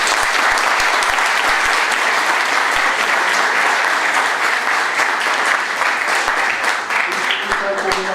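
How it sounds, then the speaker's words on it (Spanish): A large audience at a Latin American labour conference gives loud, sustained applause that fills the whole stretch, with dense continuous clapping and some crowd noise mixed in. "Yo por eso quiero que ustedes también se den un aplauso en este sentido."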